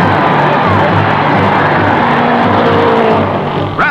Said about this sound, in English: Driving straight for the wall at 146 miles an hour, Rathman dives deep into the corner and takes back the lead.